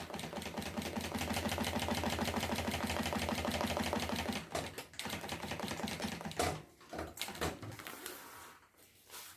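Sewing machine stitching a bag seam with small stitches, starting with a backstitch: a rapid, loud, even mechanical clatter for several seconds, then stopping and giving way to brief handling knocks and short bursts.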